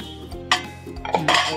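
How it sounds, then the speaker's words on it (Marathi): Pot clattering as suran (elephant foot yam) vegetable is stirred with a spoon in a cooking pot, a few close metallic scrapes and clinks in quick succession. "ढवळून तर शिजत झाकणी मारून ठेवूया, म्हणजे ते शिजेल."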